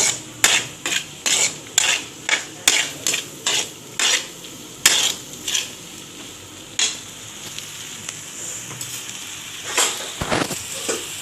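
A spoon or ladle knocks and scrapes in a pot while dinuguan is stirred, a quick run of sharp rhythmic clacks at first, then softer scraping and sizzling, close and loud with no talk.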